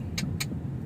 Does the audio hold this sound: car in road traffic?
yes